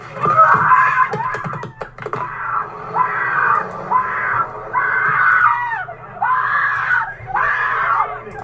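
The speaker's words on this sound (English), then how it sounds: "listen to this fucking scream" A person screams repeatedly, loud and close, in a run of five or six long shrill wails with short breaks between them. It follows a rougher, choppier stretch of screaming at the start.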